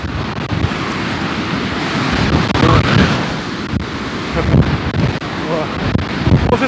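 Sea waves breaking on a shore amid strong wind, with loud continuous surf and heavy wind buffeting on the microphone, swells of crashing water rising and falling throughout.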